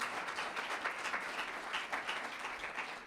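Steady applause from a church congregation, a continuous wash of clapping heard from some distance, fairly soft throughout.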